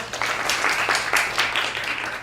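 Audience applause for a presenter at a college peace panel, a steady wash of many hands clapping at moderate level for about two seconds with no speech.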